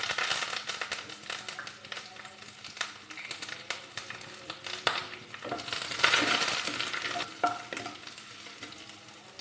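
Dried red chilies, crushed ginger-garlic and curry leaves frying in hot oil with mustard seeds, a steady close sizzle with crackles, stirring scrapes and a loud spitting burst partway through; no talking.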